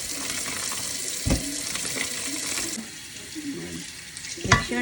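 Cold water runs steadily from a kitchen tap, splashing into a sink at close range with a few clunks and knocks as something is rinsed under it.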